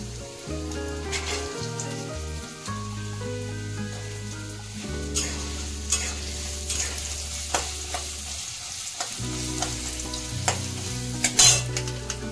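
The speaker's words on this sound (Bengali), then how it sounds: "সব সবজিগুলো আমি তেলের মধ্যে ছেড়ে দিব। প্রথমে দিচ্ছি গাজর" Carrots and other vegetables fry in hot oil, a close, steady sizzle under repeated stirring scrapes and occasional clinks of a spoon, with a background hum running beneath much of it.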